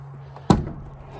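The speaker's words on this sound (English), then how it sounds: "got one door card off" A door card is pried off a car door during a minicab build, giving a single sharp pop of a releasing clip up close, followed by a quiet, fading tail.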